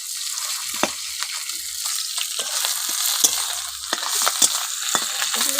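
Fish heads fry in hot oil in a wok, a continuous close sizzle with scattered crackles and the scrape of a spatula breaking and stirring them.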